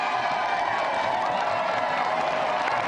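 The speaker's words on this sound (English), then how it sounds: "please give a round of applause for our 2 special guests tonight, Michael Duberry, Richard Rufus." A television studio audience applauds guests with steady clapping, mixed with some cheering and a whoop, moderately loud and continuous throughout.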